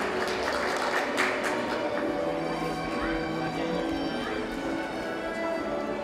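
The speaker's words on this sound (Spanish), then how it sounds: "El fuerte aplauso de los presentes" Audience applause at a graduation ceremony, a steady wash of many hands clapping throughout, moderately loud, with voices mixed in.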